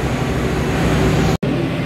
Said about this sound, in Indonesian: Oh, ini kereta api saya sudah datang.